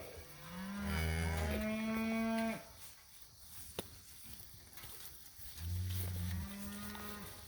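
A lighter-colored cow in a grazing herd gives two long, deep moos, loud and close, separated by a quiet pause with faint outdoor ambience.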